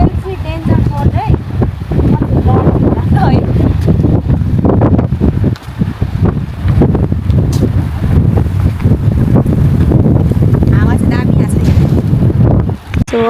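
Strong gusts of wind buffet the microphone at a waterfall in Shillong, a loud, constant rumbling roar that runs through the whole stretch, with brief lulls and people talking underneath.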